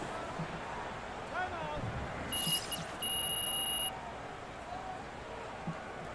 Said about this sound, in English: 24-second buzzer signaling the shot clock violation